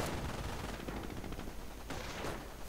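Heavy sustained gunfire from a World War II real-time strategy game battle, with machine guns and rifles rattling continuously and densely for the whole stretch, loud and close without pause.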